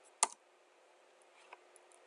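A couple of quiet keystrokes on a computer keyboard, one sharp click followed by a fainter tap a second later, in an otherwise near-silent room.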